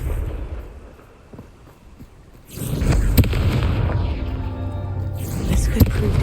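Confringo spell explosion in Hogwarts Legacy: after a quiet lull, a loud, sudden blast erupts and rolls into a sustained, dense rumble that keeps going to the end.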